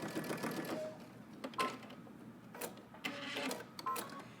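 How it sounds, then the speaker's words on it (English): Sewing machine stitching through bias binding and fabric layers on a front-tie top, with short mechanical whirring bursts separated by pauses, quiet and close. "I'm going to take my bias binding and I'm going to turn it over and then stitch through all layers."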